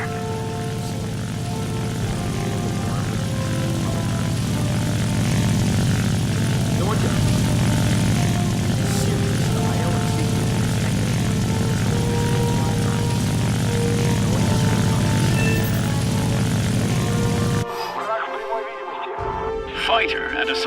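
Propeller attack aircraft in the War Thunder video game, a loud steady engine drone with a throbbing propeller hum throughout, cutting off abruptly near the end.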